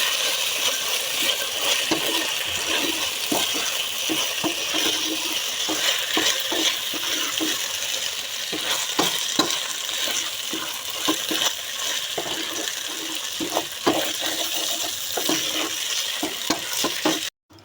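Rice fried in a pan with salt, onion paste, garlic paste and green chili for pulao gives a steady close sizzle with frequent scraping stir strokes throughout, ending abruptly.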